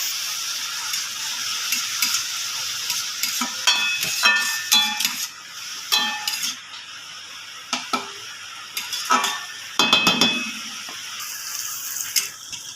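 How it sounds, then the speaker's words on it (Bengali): Vegetables with salt and turmeric sizzle loudly in a pan while a utensil stirs and scrapes in repeated bursts, with clinks of metal throughout; no one speaks. "লবণ আর হলুদ দিয়ে সবজিগুলো আমি ভালো করে একটু ভেজে নেবো"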